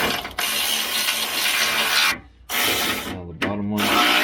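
A wrench ratchets as a bolt is tightened on rock sliders for a Land Cruiser, with a steady grinding clicking run, a brief pause, then shorter ratchet strokes, close up.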